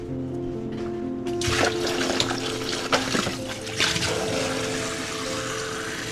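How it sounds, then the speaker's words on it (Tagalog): Tap water running into a cooking pot of adobo in a home kitchen, a steady splashing stream that swells and surges in the middle before settling into a continuous flow, with no talking. "Lagyan natin ng konting tubig."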